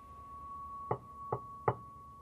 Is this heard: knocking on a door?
yes